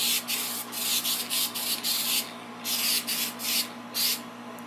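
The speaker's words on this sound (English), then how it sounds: "So this is how you spray paint" An aerosol spray-paint can hisses in a series of short bursts separated by brief pauses while painting a 2000 Arctic Cat ZRT800 snowmobile hood, close and fairly loud, with no voices.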